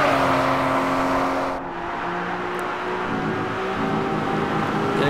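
An Aston Martin V12 supercar laps a race track with a steady, loud engine drone and a brief lift near the start before pulling on again, heard close throughout, with no voices.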